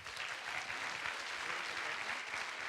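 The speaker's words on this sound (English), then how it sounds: "So let's give them a big round of applause." A conference audience applauds, many hands clapping in a steady, even wash that holds for the whole stretch, heard from a distance at fairly low level with no one speaking.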